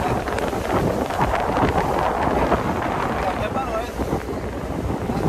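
Strong wind at sea off Portugal on a harsh, sunny afternoon roars and buffets the microphone in uneven gusts, with waves and a boat's motion churning beneath the steady blast.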